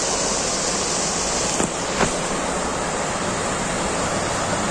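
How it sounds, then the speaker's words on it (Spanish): The flooded Ebro river rushes past in a strong, steady roar of flowing water, continuous and loud with no voices. "Mirad cómo va la corriente. Pues eso. Ya veis cómo va el río otra vez."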